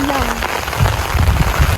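Steady rain falls on an exposed mountain peak in the Philippines (Mt. Kalisungan, Laguna), a dense, continuous patter with gusty wind noise and no clear voices.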